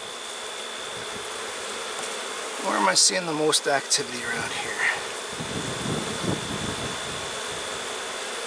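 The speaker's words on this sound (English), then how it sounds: "Lots of bees in the air, as you can see." Honey bees swarm in the air around a struggling hive, a steady close buzzing drone that continues throughout while someone speaks over it briefly partway through.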